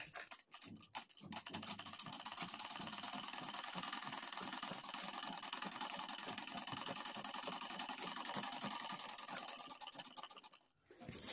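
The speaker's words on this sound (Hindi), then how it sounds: "तो चलिए आपको सिलाई करके दिखा दे रहे हैं कि कैसा सिलाई हो रहा है" A domestic sewing machine stitches fabric while its lower bobbin thread forms faulty, poor stitches, giving a continuous close rattling hum with a rapid even pulse that starts after a few handling knocks and stops near the end.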